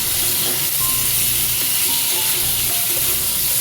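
Turmeric and spices sizzling steadily as they fry in a pan with salt for a raw banana and prawn curry, with faint stirring scrapes under a constant broadband hiss and no talking.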